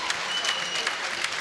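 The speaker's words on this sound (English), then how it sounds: "Crowd shows their appreciation here." A crowd applauds after a submission finish at an MMA fight, steady clapping heard at a moderate distance in an arena for a second and a half.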